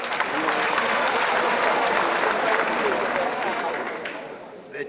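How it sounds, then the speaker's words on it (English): Audience applause at the Mount Kenya University 8th graduation ceremony: a dense, steady roar of many hands clapping that fills the whole stretch and tapers slightly near the end. "Ladies and gentlemen, you need to clap for your chairman again"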